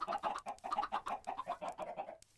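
Blocky Minecraft chickens cluck in quick, repeated bursts, a close and steady run of short clucks with no voices over them.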